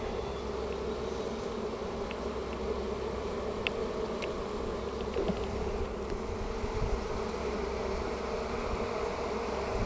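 Honeybees drone in a loud, dense, continuous buzz close around an opened hive during an inspection, with no speech.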